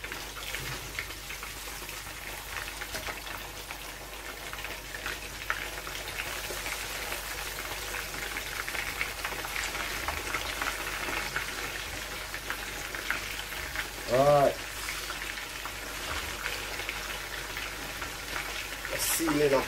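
Steady hiss and crackle of fish searing in hot oil for brown stew fish, fairly soft and continuous, with a brief louder sound partway through.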